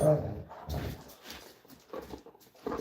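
A dog whines and whimpers at close range in short bursts, with someone talking over it during a stamping session at home.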